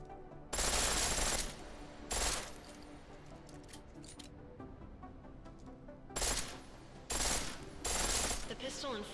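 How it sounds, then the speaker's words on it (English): A pistol fires on full auto in the video game Deus Ex: Mankind Divided, with loud, dense bursts of rapid shots in several separate volleys and quieter game sounds between them. "The pistol in full auto will take down targets fast, but it'll burn through your ammo"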